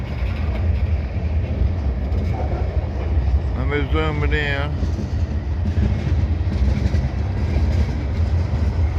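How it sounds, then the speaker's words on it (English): A grain freight train rolls past with a steady low rumble and rail clatter, loud and continuous throughout, while someone talks over it and a short horn-like tonal burst rises briefly near the middle. "This is where we got a grainer train."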